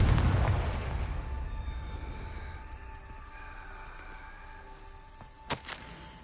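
A Confringo explosion spell is cast in the video game Hogwarts Legacy: a loud broadband blast opens the clip and decays into a rumbling tail, followed by a couple of brief sharp pops near the end over a low ambient hum.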